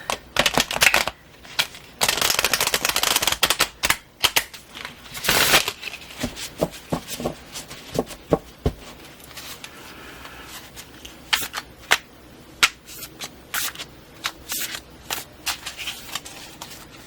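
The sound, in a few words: playing cards being shuffled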